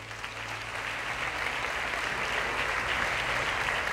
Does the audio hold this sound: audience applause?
yes